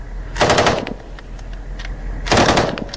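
Two bursts of rapid automatic machine gun fire in a firefight in an Afghan orchard, each lasting about half a second, loud and near with scattered distant shots between.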